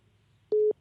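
A telephone line tone sounds once the caller hangs up during a call-in podcast: a single short, steady beep of about a fifth of a second, heard alone over a quiet background hum.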